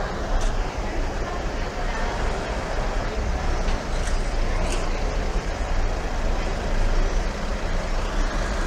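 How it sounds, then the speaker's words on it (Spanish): A truck idles and maneuvers while parking at dusk, a low continuous engine rumble with a faint hiss, heard from moderate distance with steady loudness throughout. "estamos viendo cómo aparca el camión"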